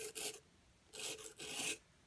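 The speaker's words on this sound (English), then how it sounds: "you're just going to take the end of that graphite and rub it along here." A pencil's graphite tip rubbed across a sharpening pad in three short, soft rasping strokes, quiet and close, separated by brief pauses of silence.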